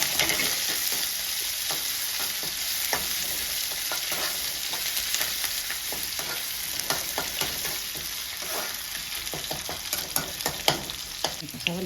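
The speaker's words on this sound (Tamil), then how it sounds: "இப்போ வெட்டி வச்ச கருவேப்பிலை, வெங்காயம் போட்டு நல்லா தாளிக்கணும்." Steady sizzling of onions and curry leaves tempering in hot oil for tamarind rice, with occasional stirring clinks and pops throughout, close and continuous.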